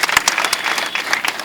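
Brisk, close applause from an audience at a ceremony, a steady patter of many hands clapping without a break.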